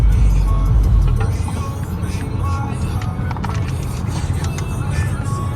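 Car driving on a long highway road trip toward Bismarck, with a steady low road rumble and engine drone heard from inside the vehicle.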